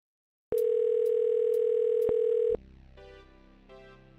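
A phone call rings with a steady tone in two bursts, then cuts over to a connected line as it forwards to a scammer, leaving quieter line noise behind.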